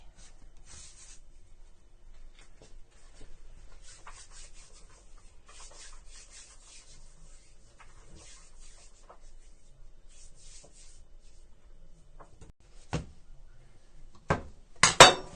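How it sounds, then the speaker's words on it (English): Bread dough is kneaded by hand on a work surface, giving faint, soft rubbing and patting sounds in an irregular rhythm, with a few sharper knocks near the end. "I'll knead each one until they're smooth"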